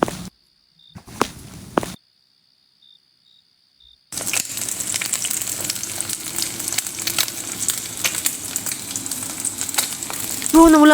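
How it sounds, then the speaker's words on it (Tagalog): A video game egg sizzles steadily in a pan, a loud continuous frying crackle that begins abruptly after a few seconds of near silence and light clicks. "I have to throw the egg into the pan to cook it."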